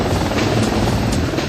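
A U.S. AH-64 Apache attack helicopter roars steadily and loudly, its dense rotor and engine noise continuous and close throughout.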